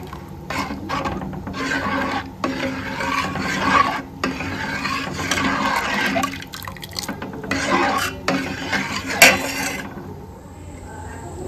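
Rice being stirred in a pot while making payesh, a steady scraping and rasping of a spoon against the pot bottom with soft wet churning, continuing at close range for about ten seconds before quieting.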